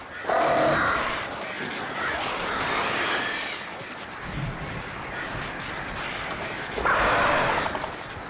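Crows cawing in the video game Alan Wake, loud harsh calls in bursts at the start and again near the end, mixed with rough game noise in between.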